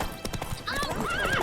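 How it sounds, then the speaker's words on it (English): Horse galloping in The Witcher 3 video game, rapid hoofbeat clip-clops followed by a whinny, close and clear, with a brief voice over the hooves. "Run, Roach"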